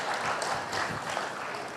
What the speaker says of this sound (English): Juliet, Chris, एक बार तालियाँ बजा दो.